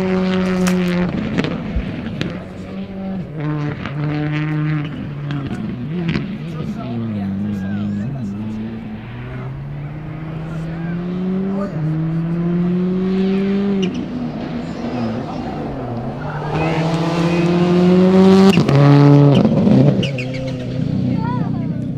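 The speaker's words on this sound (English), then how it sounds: "So Ken Block in full Gymkhana style across the finish line there." A rally car on a super special stage of the 2012 Olympus Rally runs at high speed across the finish line, its engine roaring and revving up and down through gear changes and swelling louder near the end, while people talk over it nearby.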